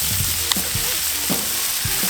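Philly cheesesteak fillings sizzling on a Camp Chef griddle, a dense continuous hiss with soft scraping thumps of a spatula mixing them, close and steady.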